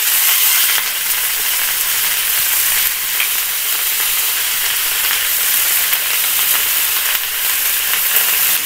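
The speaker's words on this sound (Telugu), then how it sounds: "ఇవ్వండి ఉల్లి ముక్కలు వేగిపోయాయి కదా, ఇప్పుడు మనం కోసుకున్న వంకాయ ముక్కలన్నీ" Brinjal pieces frying with onions in a pan, a loud, continuous bright sizzle with steady crackling throughout and no voices.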